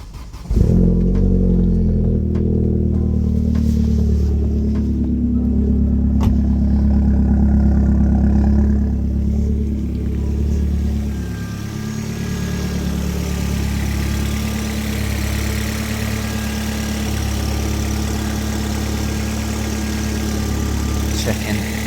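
A Toyota Land Cruiser VXR with a weak, dying battery starts up and settles into a loud, steady, deep idle close by, easing down slightly after about ten seconds and continuing to run evenly.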